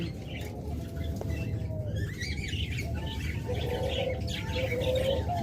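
Caged lovebirds, a breeding pair with a female close to laying eggs, give scattered bright chirps and squawks over a low, constant background rumble, clustering more densely toward the end.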